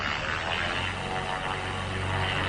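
A constant, loud low drone of an airplane engine fills the whole short stretch without any change or break.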